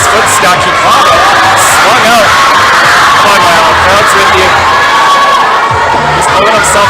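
A crowd cheers and shouts at a provincial top rope climbing final, loud and continuous with whoops and children's yells, a voice talking over the din.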